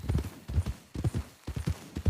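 A horse's hooves clop in evenly spaced heavy bursts, about five groups of strikes in quick succession, close and punchy with short quiet gaps between.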